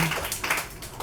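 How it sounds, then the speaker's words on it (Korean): An audience claps together at a book talk and concert in a Myeongdong bookshop, a fairly faint, steady patter of many hands lasting about a second. "다시 한번 박수 좀 해주세요"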